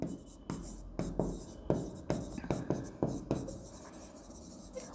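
Pen writing a bank charge entry by hand on paper during an accounting exercise, a close series of scratchy strokes with short pauses between words, steady and moderately loud with no talk.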